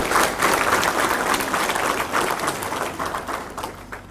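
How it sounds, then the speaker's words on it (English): A crowd at a nursing interns induction ceremony applauds the new intern nurses, dense clapping that is loud at first and gradually thins out. "So can we start off with a big round of applause to all our intern nurses?"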